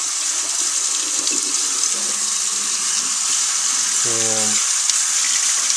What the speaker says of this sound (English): just going to rinse this off